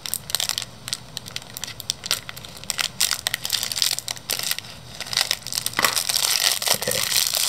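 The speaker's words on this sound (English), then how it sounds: "We're gonna be using a razor to cut this." Razor blade slicing and tearing the crinkly plastic shrink-wrap on a 2018 Yu-Gi-Oh collector tin, a run of close, sharp crackling and crumpling bursts that grow denser and louder toward the end.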